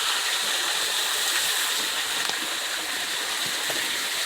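Steady broadband rush of a waterfall spilling into a pool of water, heard up close on wooded private land in Dennard, Arkansas, constant and fairly loud with no voices.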